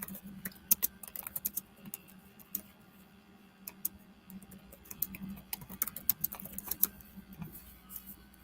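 Quiet typing on a computer keyboard during an online video call, with irregular bursts of light clicking keystrokes over a steady low electrical hum and no talking.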